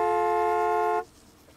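A car horn in the Gas Station Simulator video game blares in one sustained, loud honk for about a second, then cuts off to near silence.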